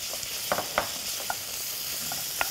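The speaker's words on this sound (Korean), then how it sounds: "들어갈 때 약간 소리 나는 온도. 지글지글." Food sizzles and crackles steadily in hot oil, a dense hiss broken by a few sharp pops, with no one speaking.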